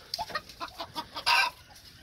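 Hens cluck softly in a quick, uneven series nearby, followed by a brief louder squawk near the end.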